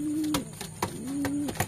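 A pigeon coos close by, giving two low, drawn-out calls in quick succession, with a few faint clicks between them and no talking.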